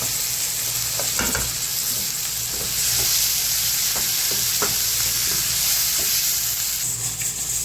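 Mutton lung frying in a pan with green chilies, crushed red chili and garam masala, a steady close sizzle and hiss with occasional scraping stirs, no talking.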